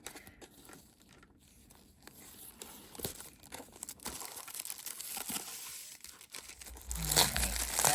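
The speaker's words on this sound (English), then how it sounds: "So let me start unwrapping this package here." Paper and plastic packaging from a Trollbeads jewelry shipment crinkles and tears as the parcel is opened, quiet scattered rustles building into louder crumpling toward the end.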